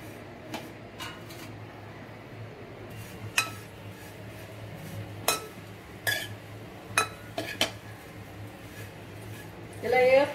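Prawn shells dry-roasted in a pot for spice powder give scattered metallic scrapes and clinks of a utensil against the pot, irregular and close, with a louder rustle at the end.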